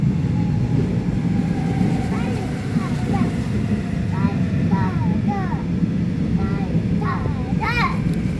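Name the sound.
subway train arriving at station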